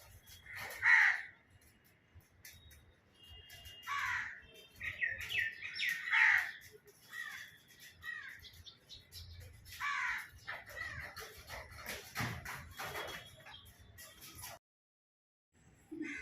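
Crows caw repeatedly in scattered bursts, fairly near, with short pauses between calls and a quiet background.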